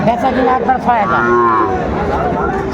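Cattle low loudly at a busy livestock market (haat) selling young bull calves, with long rising and falling moos over the continuous chatter of the crowd and an auctioneer-style voice calling prices.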